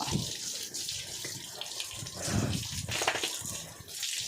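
A garden hose sprays water over a pig being washed, a continuous gushing splash that rises and falls slightly in strength, moderately faint and without speech.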